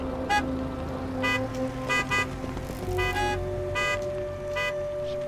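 An old car in the video game Everything gives several short harmonic honks at a steady interval over a low continuous engine drone.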